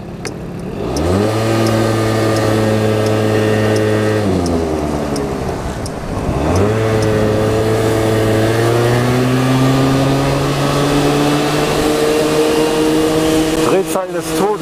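A moped engine revs hard and close, its whine climbing to a high pitch and holding. It falls away briefly, then winds back up and stays screaming at high RPM.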